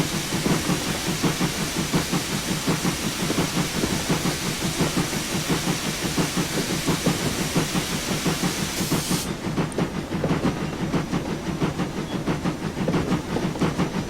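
A train running in the Train Simulator game, a MeshTools G2 locomotive, rolls along with a steady rhythmic clatter and hiss, loud and continuous throughout with no talking.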